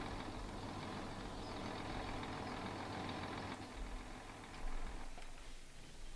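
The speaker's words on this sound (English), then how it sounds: "I'm just going to turn the tractor off as well." A tractor engine in the Farming Simulator 17 video game, hauling a muck spreader, rumbles steadily at idle and then drops to a lower, quieter hum partway through, with no talking.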